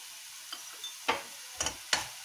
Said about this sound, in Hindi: इस प्रकार इसको भूनते जाना है।